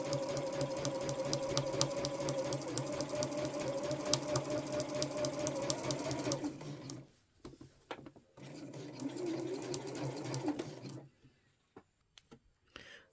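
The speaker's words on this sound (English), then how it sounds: "Then you need to back stitch a couple of times. You're just going to sew all the way to the end." A sewing machine stitches a beach bag seam in a close, steady whirring run, then stops and starts again in a shorter burst before falling quiet.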